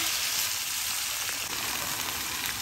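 Bottle gourd greens hitting a hot frying pan of already-fried vegetables for a Bengali lau shak curry, giving a steady, close, broadband sizzle that stays loud and even throughout with no talking.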